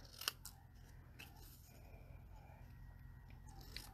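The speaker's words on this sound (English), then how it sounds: "I'm going to just use my paper snips to snip it out" Paper snips cut a piece out of paper card stock for a handmade card: one crisp, close snip near the start, then softer slicing and rustling, with no voices.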